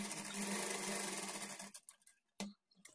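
A sewing machine stitches along the edge of folded fabric for a blouse tassel, with a close, steady whirring run that stops abruptly, followed by a few short bursts and clicks.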